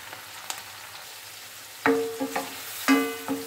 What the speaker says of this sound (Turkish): Biberimizi tereyağıyla bol güzel kavuruyoruz.